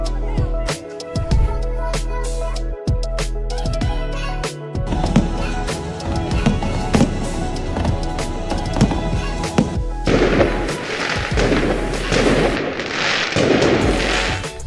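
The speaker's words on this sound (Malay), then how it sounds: "Setengah jam penuh dengan bunga api." A fireworks display at Phu Quoc, Vietnam crackles and booms in rapid, overlapping bursts, with sharp pops and deep thuds continuing throughout and intensifying toward the end into a dense barrage.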